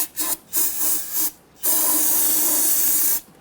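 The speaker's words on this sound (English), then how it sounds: "Going to go ahead and spray out inside the spider gear area." Short bursts of aerosol cleaner hiss into the rear differential spider gear area of a 2006-2010 Hummer H3, a few quick sprays followed by one long sustained blast, close and loud.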